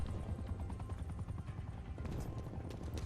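Helicopter rotor in Call of Duty: Black Ops Cold War, a steady low chopping drone that runs continuously with scattered gunfire-like cracks in the game mix.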